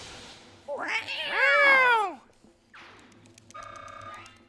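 A cat in the Fire Emblem: Path of Radiance video game gives a drawn-out, wavering meow, then a shorter quieter cry and a third buzzy call, with someone talking around the sounds.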